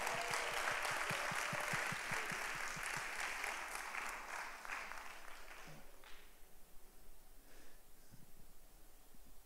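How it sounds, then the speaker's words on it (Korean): Congregation applause during a Sunday church service, a dense burst of clapping that starts loud and gradually fades away, leaving quiet room noise by the end. "우리 형제들을 격려 박수 한번 칩시다."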